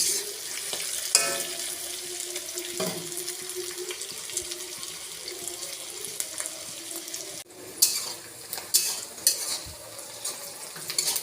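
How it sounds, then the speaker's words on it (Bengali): Onions fry in a pan while being stirred for a homemade mutton kosha, a steady sizzling hiss with scraping stir strokes and a few louder clatters later on. "পেঁয়াজটা আমার লাল করে ভাজা হয়ে গেছে।"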